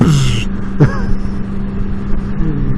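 A 2014 Yamaha R1 sport motorcycle with its stock exhaust, the engine revving in two quick sharp blips before settling into a loud steady idle nearby.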